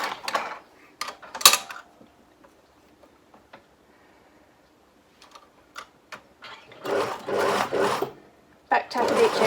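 A sewing machine stitches along a seam line in fabric, with back-tacking at each end, in short rattling bursts that grow denser toward the end, mixed with scattered handling clicks and a little talk.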